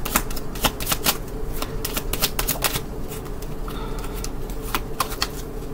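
A deck of playing cards is shuffled at close range, in bursts of sharp riffling flutters separated by brief pauses, with a steady low background hum and no talking.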